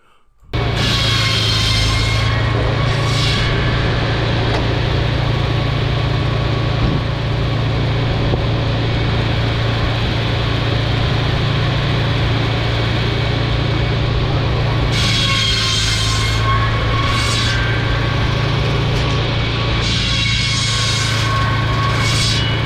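Loud, steady drone of a 100-year-old tractor-powered shingle mill running nonstop, with a rough mechanical rumble and occasional whining surges over it.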